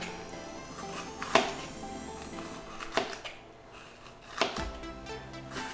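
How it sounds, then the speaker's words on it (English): A knife slicing a bell pepper into small, fine slices for plant-based quesadillas, heard as a few scattered cutting taps against a board over faint kitchen background, fairly quiet and with no talking. "So go ahead and finely slice your pepper."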